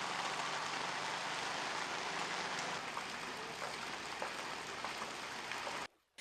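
Heavy rain pours steadily onto a flooded road in Nawalapitiya, Sri Lanka, a dense, loud, continuous hiss that cuts off abruptly near the end.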